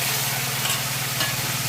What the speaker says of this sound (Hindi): इसमें मैंने राई और जीरा डाल दिया तेल, और इसमें हींग डाल दूंगी मैं इसमें, और इसमें हरी मिर्ची